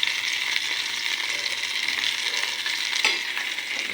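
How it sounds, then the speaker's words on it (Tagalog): Meat fries in its own rendered fat, giving a dense, steady sizzle and crackle close by, with a brief stir near the end and no talk. "Iparito sa sarili niyang mantika."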